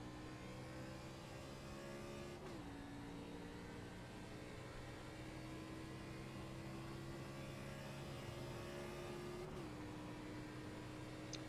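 A race car engine in an Xfinity Series racing game at Le Mans testing drones steadily and climbs in pitch, with two clear upshifts where the tone drops briefly before rising again, loud and constant throughout.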